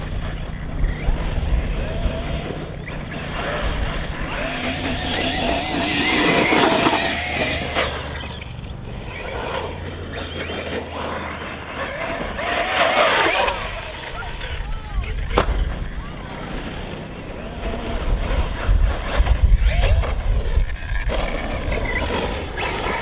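Team Corally Asuga XLR RC basher buggy running on 6S power with Sketer tyres, its motor whine and tire noise rising and falling over about twenty seconds amid outdoor wind rumble, with a voice talking over it.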